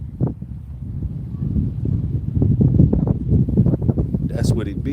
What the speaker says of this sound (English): this wind is killing it right now